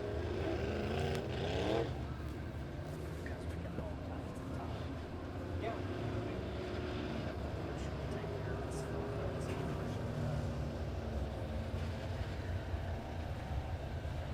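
USRA B Modified race cars roar around Springfield Raceway under the lights, a steady distant rumble of engines as the pack heads into the turns, with an announcer talking over the noise.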